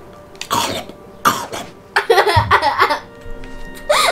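A man imitates Gollum's cough, giving several raspy, gurgling cough bursts in short spaced bursts, followed by throaty laughing sounds, close and loud.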